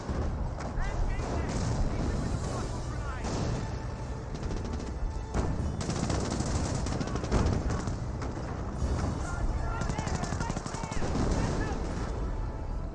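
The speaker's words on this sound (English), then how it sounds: "Grenadiers getting some shots down the rifle grenades" Gunfire and rifle-grenade blasts from Grenadier infantry in the WWII strategy game Company of Heroes, with continuous rattling small-arms fire, sharp cracks and muffled booms packed into a steady, busy battlefield mix.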